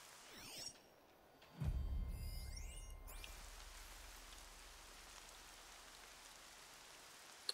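Rain falls in Horizon Zero Dawn as a steady, soft hiss of drops on surfaces that continues through the scene, with a brief louder whoosh near the start.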